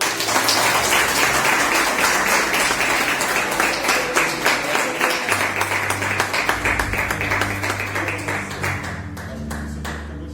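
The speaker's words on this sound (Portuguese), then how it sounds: "Vamos aplaudir esse grupo aí ou não?" An audience at a church youth and teen workshop applauds a youth group, steady dense clapping that carries on for about ten seconds and thins slightly toward the end, with a low hum underneath.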